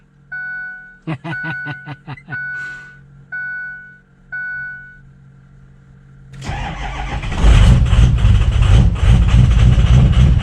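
A few chirps and clicks, then a diesel truck engine cranks on a cold night with a lithium jump pack and fires up at about six seconds, settling into a loud, rough, rumbling idle.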